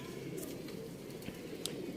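A golden pigeon coos softly in a bird setup, a few low, muffled calls under a steady background hum.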